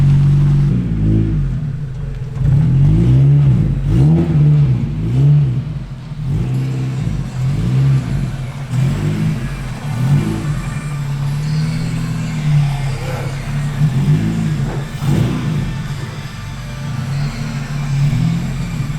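A Honda Civic's B18 VTEC engine is revved hard in repeated pulses, a loud deep rumbling exhaust rising and falling in several throttle blips over a steady idle.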